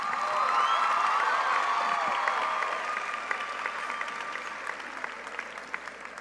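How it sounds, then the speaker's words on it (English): Audience at a 2019 Reading High School commencement applauds and cheers after a percussion ensemble performance: dense, steady clapping with scattered whoops that slowly thins toward the end. "Another round of applause for the percussion ensemble."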